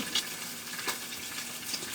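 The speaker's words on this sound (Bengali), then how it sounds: "তার সাথে একটা মাছ ভাজা করতেছি" Pangas fish fries in a pan with a continuous close sizzle and spitting, plus a few soft pops.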